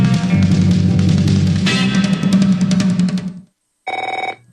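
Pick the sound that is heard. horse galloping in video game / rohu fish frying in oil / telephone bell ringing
telephone bell ringing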